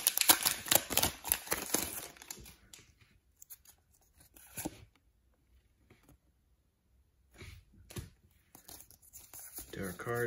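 A Pokémon card booster pack torn open by hand, with crinkly foil tearing and rustling in bursts near the start, then quiet pauses and a few more crinkles later, close and fairly soft, with some talking mixed in.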